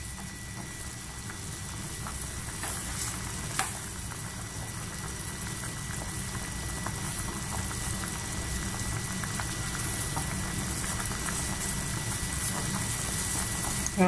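A pot of Vietnamese pork hock soup simmers on the stove, a steady low bubbling rumble and hiss running continuously at moderate level with a faint click partway through.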